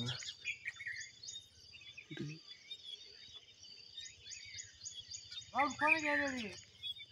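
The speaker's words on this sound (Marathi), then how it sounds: "इथे चिमणी आहे, इथं कोयल." Sparrows and koels call on a morning outdoors among grass and shrubs, with bright chirps and tweets repeating through the whole stretch, fairly close, while a person talks briefly near the end.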